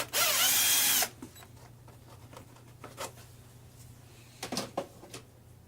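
Screws come out of the engine bay of a 2009 Nissan Versa near the coolant reservoir. A loud one-second burst of driver whirring gives way to a few faint scattered clicks and taps of the screwdriver working close by, with no talk.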